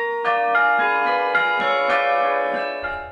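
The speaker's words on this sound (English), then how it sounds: "The bells are majestic, the job unbelievably rare." Carillon bells ring out from a university bell tower with an open window, struck notes overlapping in a steady melodic sequence, loud and resonant with long sustaining tones.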